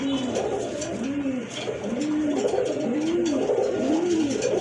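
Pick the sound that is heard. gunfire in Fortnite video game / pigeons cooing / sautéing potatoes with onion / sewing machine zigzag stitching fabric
pigeons cooing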